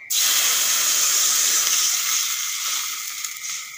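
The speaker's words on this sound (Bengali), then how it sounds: "এখন কড়াইতে দিয়ে দেব জল।" Water poured into a hot kadai holding fried fish bursts into a loud, sudden sizzle, then settles into a steady hiss that fades slightly over several seconds, close up and without talk.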